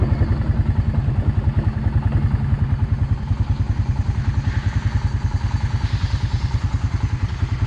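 A Honda ATV engine runs steadily while being ridden, its close, rhythmic low-pitched pulsing and mechanical clatter continuous and loud with no talk over it.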